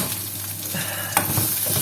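Onions fry in a pan and are stirred, giving a steady sizzle with a short scrape of the utensil partway through, close and moderately loud, with an extractor fan humming behind it.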